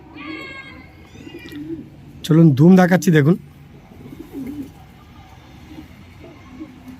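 Pigeons coo in a low, burbling throb, one loud nearby bout rising in the middle and quieter coos around it, while someone talks over the birds.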